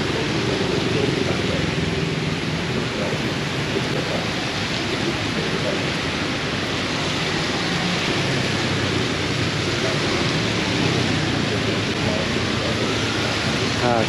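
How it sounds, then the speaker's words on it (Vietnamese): Heavy rain and wind pour down on a Saigon street in Cho Lon, a dense, steady roar of downpour that fills the whole stretch, with faint traffic blended into the wash. "mưa gió tầm tã."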